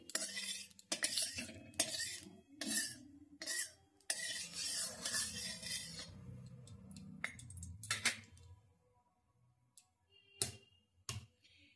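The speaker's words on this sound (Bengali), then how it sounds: "সরষের তেল দিচ্ছি, আর তেলটা এইভাবে গুলিয়ে নিচ্ছি" Mustard oil stirred in a pan with a utensil while preparing egg tarka, giving quick scraping clinks and rustles in bursts, then sparser taps and a few sharp clinks near the end, close and fairly quiet.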